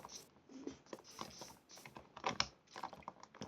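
Computer keyboard and mouse clicks come from someone playing a video game: quiet, irregular patters of key taps and clicks in short bursts, close by and faint.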